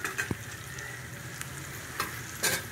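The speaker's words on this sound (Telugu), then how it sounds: "పచ్చిమిర్చి పేస్ట్ కూడా బాగానే వేగింది" Green chili paste fries in a pan with a continuous close sizzle, broken by a few scraping stirs of a spoon against the metal.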